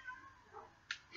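A Minecraft cat meows softly in the game, a faint brief mewing with a small click near the end.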